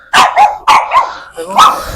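A dog barks close by, several quick loud barks in a row with a short yelp-like tail at the end.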